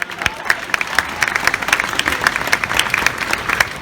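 An audience claps in a round of applause during a public speech about marriage equality in Australia: dense, steady crackling claps lasting a few seconds, moderately loud, with a faint voice underneath.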